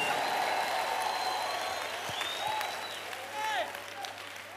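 Congregation clapping in a lively Kenyan church service, a steady wash of applause running under loud voices, with a voice calling out over it.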